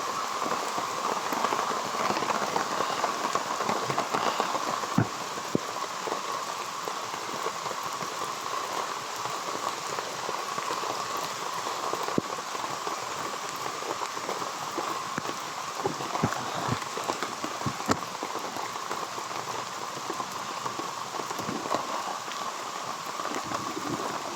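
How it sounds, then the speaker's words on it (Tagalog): Steady heavy rain pours down continuously, a dense hiss with scattered sharper drop impacts throughout. "Lakas kasi ng ulan."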